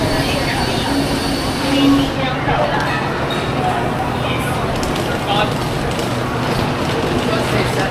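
Train on the Guangzhou to Hong Kong route, a steady rumbling rail noise with hiss and clatter, close and continuous, while people talk over it.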